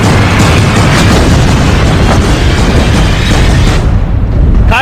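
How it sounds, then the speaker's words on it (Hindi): A missile shot down mid-air by a missile defense system, a loud sustained roaring blast that rumbles continuously for several seconds before tailing off. "मिसाइल डिफेंस सिस्टम भी है, जिसमें अटैक के लिए उड़ी मिसाइल को बीच में मारकर गिरा दिया जाता है"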